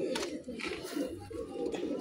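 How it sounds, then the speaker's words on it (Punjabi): Pigeons coo in a low, soft, rolling drone through most of the clip. A faint rustle and flutter sit above it, close by. "ਇਹ ਕਬੂਤਰ ਆ"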